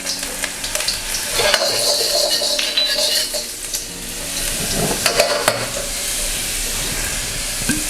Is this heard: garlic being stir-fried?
yes